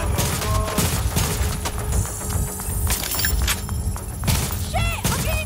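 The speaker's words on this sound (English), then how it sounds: "The point of the fireworks is to draw their attention." Fireworks in the video game Watch Dogs: Legion pop and crackle in a rapid, irregular volley of sharp bangs and thuds, loud and close, with occasional whistling streaks and game sounds in between.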